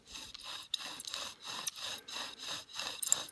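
Bow drill spindle spun against a fireboard in deep snow to build a friction ember, a rhythmic back-and-forth rasping of wood on wood, about seven even strokes close up with no talk.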